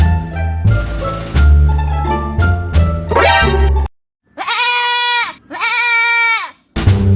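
A goat bleats loudly and close by in repeated long wavering calls, broken by short pauses, with no one speaking during the cries.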